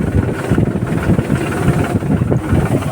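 A tractor engine drones loudly and up close, a rough low rumble that pulses unevenly under heavy wind buffeting on the microphone.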